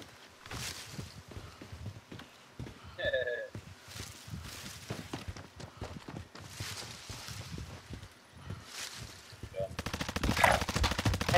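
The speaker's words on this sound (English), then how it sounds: "They're shooting at me." Gunfire in a video game: scattered single shots and rattling bursts with footsteps in between, growing denser and louder toward the end.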